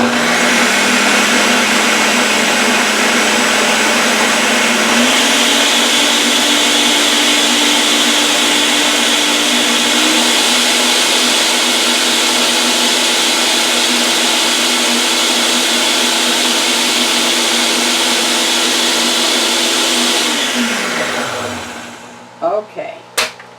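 A blender purees a Dollar Tree berry mix loosened with oil, a loud continuous whirring roar whose pitch steps up slightly twice. It then winds down as the motor stops, followed by a few clunks.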